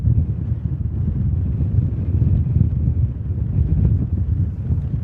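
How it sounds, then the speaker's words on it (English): Steady, rumbling wind buffeting a microphone beside an airport runway, a constant low roar with gusty swells and no other clear sounds. "As you can hear, it's quite windy"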